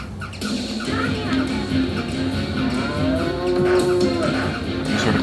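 A cow moos in a Sega CD video game, with low bellowing tones drawn out across the clip over busy game music and effects, loud and close.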